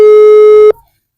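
A single steady telephone tone sounds loud and alone while a call is placed again, holding for most of a second before cutting off abruptly into silence.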